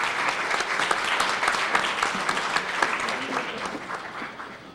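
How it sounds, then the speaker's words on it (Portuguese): Sustained applause from a conference audience welcoming a Sorbonne professor to the stage at an opening session on financial crisis and basic income, a dense even patter of many hands that holds steady, then thins slightly toward the end. "Uma salva de palmas."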